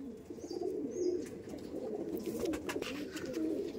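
Madras pigeons in a home loft give faint, low cooing calls that recur in a soft murmur across the moment, with light chirps overhead.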